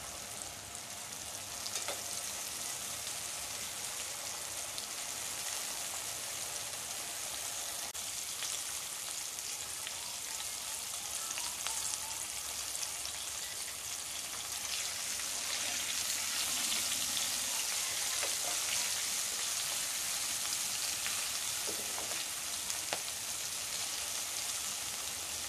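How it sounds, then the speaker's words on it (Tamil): Eggplant fries in oil for Chettinad ennai kathirikai kulambu, a quiet, continuous sizzle and crackle that holds steady for the whole stretch with no talking. "இப்போ கத்திரிக்காய் வந்துட்டு நல்லா ஃப்ரை ஆயிடுச்சு."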